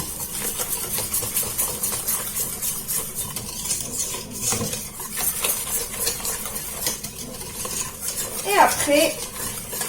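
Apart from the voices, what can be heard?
mixing dessert ingredients with biscuit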